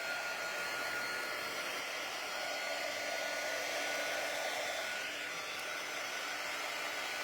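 A hair dryer blows steadily on a DIY T-shirt, producing a constant, even whooshing hum at moderate volume throughout, with no speech.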